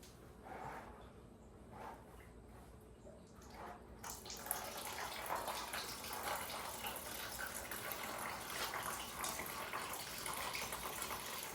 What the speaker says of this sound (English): This is just some tap water. Go ahead, fill it straight through the radiator here.